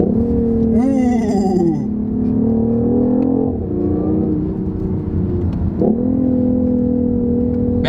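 A BMW i8 revs with a deep, Mustang-like growl played through its Harman Kardon audio system, its pitch rising and falling over several loud, close pulls, and a person gives a brief exclamation near the start.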